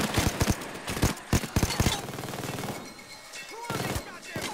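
Gunfire in the video game PAYDAY 2, rapid bursts of close, loud shots in quick clusters, then a quieter gap with scattered sounds before a few more shots.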